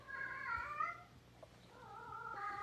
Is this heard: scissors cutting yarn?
no